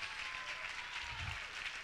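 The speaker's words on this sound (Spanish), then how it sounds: "un fuerte aplauso para todas las finalistas y las que no fueron finalistas" Audience applause for the finalists at the opening of a Miss Pole Dance Argentina and South America competition, a brief, dense wash of clapping at moderate distance with no voices.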